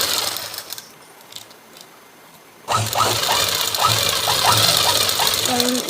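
A sewing machine stitches darts on a blouse, its steady mechanical whir starting abruptly partway through and running loud and continuous to the end, with a voice talking over it.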